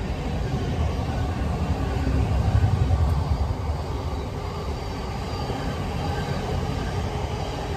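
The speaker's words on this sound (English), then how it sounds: "Good old trains" A train passes beside an allotment garden, a steady broadband rumble that swells slightly midway and holds at moderate loudness throughout, with no speech.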